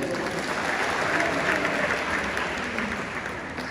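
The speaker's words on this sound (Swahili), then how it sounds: "Hawa pia tuwapongeze au tujipongeze wenyewe kwa makofi mengi" A church congregation at a combined-churches Mass applauds together in a steady, dense wash of many hands, sustained throughout and tapering slightly toward the end.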